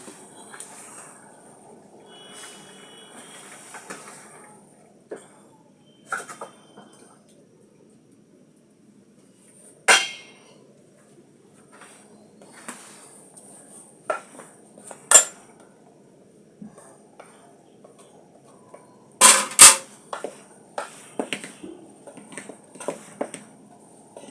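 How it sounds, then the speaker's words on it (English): Wooden spoon mashing boiled potatoes in a pot, giving sparse scrapes and sharp knocks against the pot's side, spaced irregularly over a quiet kitchen background with no talk. "just to make the mashing easy. So now I'll be able to use my wooden spoon."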